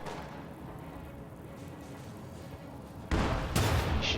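In a World War II strategy video game, a steady low rumble of distant battle gives way to a sudden loud burst of field gun fire at a Panzer IV tank, with rapid sharp cracks close by near the end.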